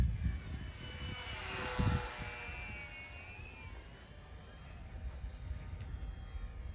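FMS 800mm warbird RC airplane flying overhead, its propeller and motor whine sweeping up and down in pitch as it passes, moderately distant over outdoor wind noise.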